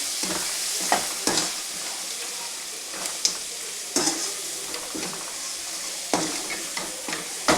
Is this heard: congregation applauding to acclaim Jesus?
no